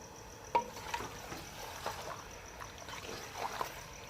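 Beef sauteing in a pan over high flame, a soft steady sizzle with occasional light stirring scrapes and clinks, quiet and close.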